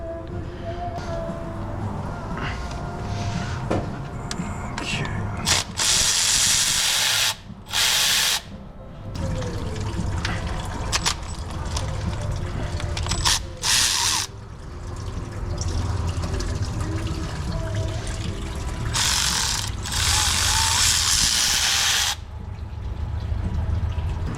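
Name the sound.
tool undoing bolts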